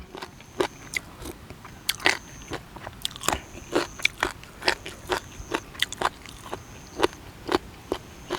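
Close, crisp crunching bites repeat steadily, each a sharp crackly snap as spicy squid tendon salad, firm and rubbery, is chewed, with no talking.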